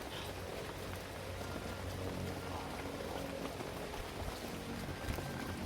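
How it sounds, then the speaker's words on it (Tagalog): Heavy rain pours down steadily at night, a dense, continuous wash of drops hitting surfaces that stays even and fairly soft throughout, with no voices. "Kaya tapos ang lakas pa ng ulan."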